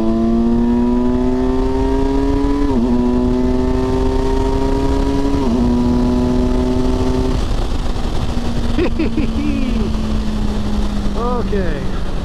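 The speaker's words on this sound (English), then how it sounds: "So this is about all the off-roading this bike will ever see right here." Kawasaki Versys 1000 LT SE+ adventure touring motorcycle riding off-road, its engine note steady and loud with two brief shifts in pitch, then settling lower, up close throughout.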